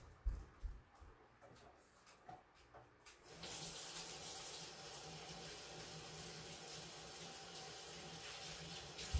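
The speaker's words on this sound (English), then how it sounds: "Second is to always wash your hands." A kitchen tap is switched on for washing hands and gives a steady, rushing hiss of running water that continues unbroken. Just before it, a few soft knocks and clicks sound close by.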